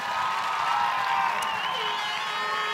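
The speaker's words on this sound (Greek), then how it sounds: "Ένα χειροκρότημα για σας, παιδιά." A school audience applauds children at a school event on Chios, with a steady wash of clapping and crowd noise under a sustained musical tone, moderately loud and continuous.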